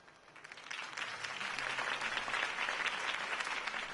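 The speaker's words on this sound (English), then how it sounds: "If only Mr. Wayne, my campaign's largest backer, could have heard that applause" A crowd applauds a campaign speech for Harvey Dent in Gotham, the clapping swelling from a quieter start into a full, sustained roar of many hands that carries on to the end.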